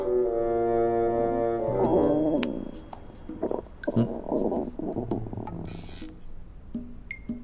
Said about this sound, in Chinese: 是我肚子叫。